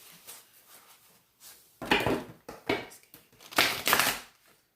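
A few quick riffling bursts of cards being shuffled, crisp and close, separated by short pauses.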